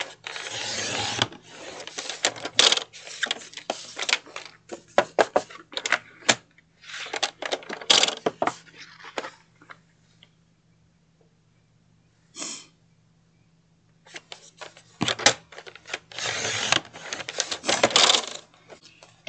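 Cardstock being cut to 6.5 by 6.5 inches, a series of close, crisp slicing and paper-handling sounds in irregular bursts with quiet pauses between.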